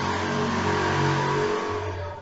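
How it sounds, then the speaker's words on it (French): A motorcycle passes nearby, a steady mid-pitched engine drone that holds loud and even, then eases slightly as it moves away. "Non, c'est une moto qui passe."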